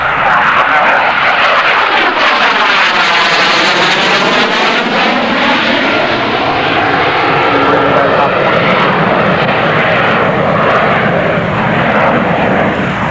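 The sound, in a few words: Harrier GR7 jet aircraft flying past at an air show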